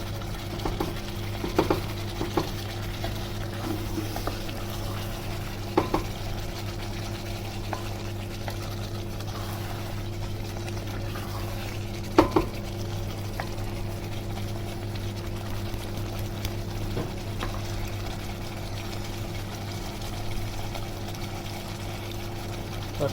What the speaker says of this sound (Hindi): और अब हमने इसको अच्छे से भूनना है।